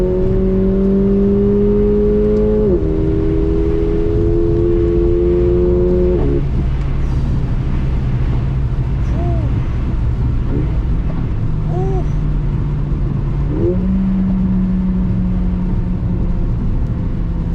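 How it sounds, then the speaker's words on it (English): Mercedes CLA 45 AMG engine on a first drive, droning loudly with pitch climbing and dropping through gear changes and a few crackling exhaust pops, close and continuous inside the car. "It's popping and all kind of sounds behind."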